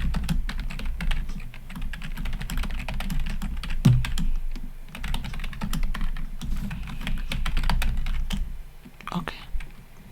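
Computer keyboard typing in a quiet close-up setting, rapid uneven clatter of keystrokes running continuously with a soft voice speaking underneath at times.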